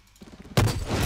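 Gunfire in the shooter game Blacklight Retribution: soft faint pops at first, then a sudden loud shot with a booming tail and rumbling echo, close and alone.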